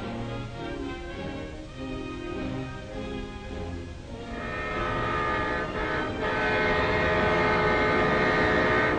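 A Southern Railway freight train of boxcars rumbles steadily past, with a long sustained horn tone swelling louder midway and continuing to the end; no voices.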